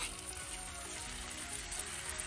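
Vegetables for veg Manchurian, half-cooked and frying in a pan, give a faint, continuous sizzle with small crackles and light stirring.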